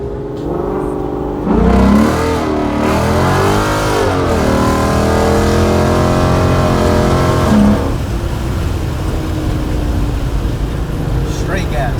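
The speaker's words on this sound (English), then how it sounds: "I'm about to go test the Mustang out real quick, make sure everything's running good. And maybe push it a little bit." A Ford Mustang S550 fitted with a hidden nitrous system, its engine revving up through rising, falling sweeps on a test drive, loud and close from inside the car, then settling into a steadier drone, with someone talking briefly.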